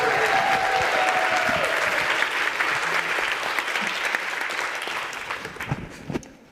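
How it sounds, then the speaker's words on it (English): Audience applause at a panel discussion on multi-stakeholder collaboration, a loud, dense burst of clapping from a full room that swells at once and then gradually thins and fades out over several seconds. "And can we have a quick, energizing applause for Stephanie"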